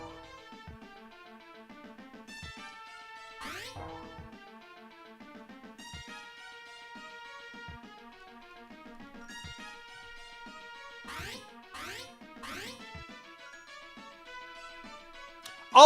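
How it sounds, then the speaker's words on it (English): Warbling, detuned guitar-like enemy-defeat effect from a Home Alone video game, surfacing a few times over steady, busy in-game background music with no talk. "that weird, like, detuned guitar sound is, in fact, the sound that they're going with for "You've defeated an enemy.""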